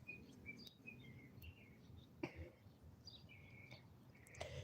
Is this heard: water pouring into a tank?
no